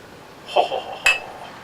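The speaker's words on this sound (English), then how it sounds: "I don't know, Bart, can you hand me a glass?" A glass clinks as it is handed over beside a beer tasting, two short bright knocks close by in a quiet room, the second sharper than the first.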